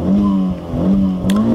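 A Toyota Celica GT4 engine revs up and down in a sustained, loud rising and falling drone, heard close with no talking.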